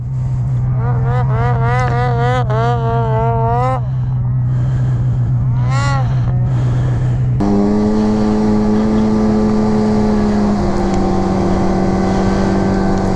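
An Arctic Cat Riot snowmobile runs on snowy trails in Old Forge, its engine a loud, steady drone that climbs and falls in pitch, with a sharp shift in tone partway through as it revs harder.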